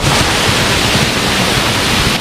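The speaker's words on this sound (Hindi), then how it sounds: "तो चलिए हम लोग आप लोगों को दिखाते हैं कैलाश गुफा का वाटरफॉल।" The waterfall at Kailash Gufa cave in Chhattisgarh gives a loud, dense, unbroken roar of rushing water, steady throughout and close by with no other sounds standing out.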